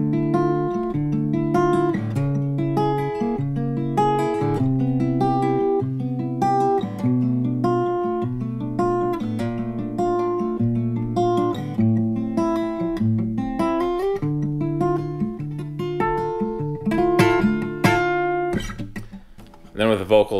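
A fingerpicked guitar plays a song using alternative chord voicings. Plucked notes and arpeggiated chords continue steadily and close for about twenty seconds.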